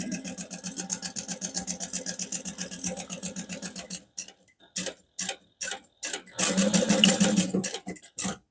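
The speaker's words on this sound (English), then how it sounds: "I'm top stitching or sewing this in place using a 1/4 inch seam allowance right now" A sewing machine topstitches zipper tape on a harmonica hobo bag at a quarter-inch seam allowance: steady rapid ticking stitches up close, then a series of short stop-start bursts with gaps of quiet.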